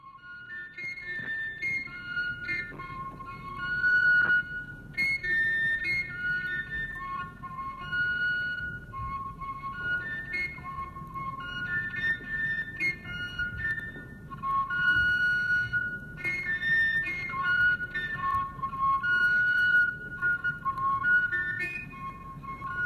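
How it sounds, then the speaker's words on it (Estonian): An Estonian folk whistle cut from a hollow plant stem and held upright against the lower lip plays a hunting-signal tune: clear, bright, breathy notes in quick runs and repeated phrases, close and alone over low background hiss. "tehakse putkevarrest ja mängides surutakse toru ülemine ots püstiselt vastu alumist huult"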